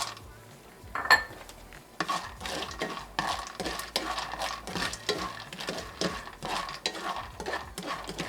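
Peanuts tipped into a hot pan of oil for frying while making mole poblano, giving a clatter followed by steady stirring scrapes and soft sizzling, close up with no talk.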